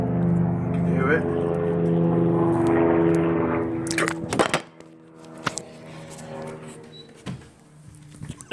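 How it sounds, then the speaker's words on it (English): An Airbus H125 helicopter passes overhead with a steady, humming rotor drone that fades after about four seconds, followed by scattered clicks and handling noises while someone talks. "That's a helicopter just gone over north."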